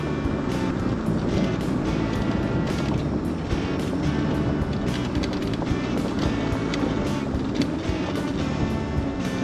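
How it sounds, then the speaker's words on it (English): Strong gusty wind buffets the microphone outdoors along a road near a riverside campsite, a loud continuous rumble with repeated sharp gust bursts and no speech. "Ooh, lots of wind."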